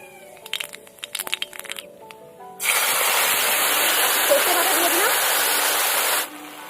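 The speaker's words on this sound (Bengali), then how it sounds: "এবার আমি দিয়ে দেবো ফোড়ন কালো জিরে।" Kalo jeera (nigella seeds) dropped into hot oil for tempering burst into a loud, dense, steady crackling sizzle close by, after some earlier light clatter with a voice speaking, then the sizzle cuts off abruptly.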